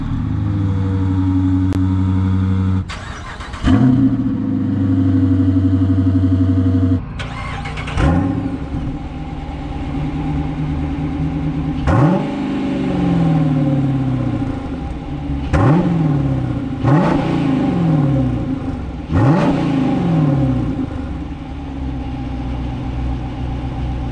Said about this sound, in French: Là on l'entend bien le V8.